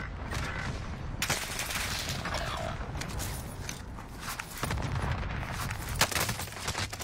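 Heavy gunfire fills a video game battle: a dense, continuous barrage of shots and explosions stays loud and close throughout, with sharper bursts punching through near the middle and end, and no speech.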